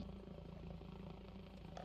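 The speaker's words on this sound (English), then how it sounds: "Like that helicopter, for instance." A helicopter in the military video game Arma Reforger drones steadily in the background, a faint continuous low rotor rumble with no talk over it.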